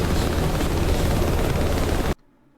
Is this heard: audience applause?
no